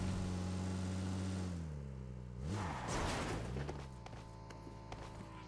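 A motorbike engine in the battle royale game PUBG, steady mid-pitched droning that shifts in pitch as the bike passes close, then fades behind rustling movement and clicks.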